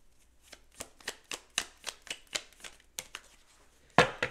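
Tarot cards being shuffled by hand, a run of crisp riffling snaps in a quick steady rhythm, close and fairly quiet, ending with a louder final slap.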